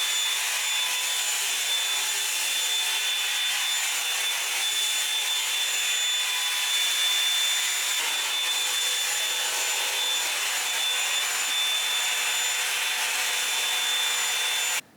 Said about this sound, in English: it's like a round brush and a hairdryer in one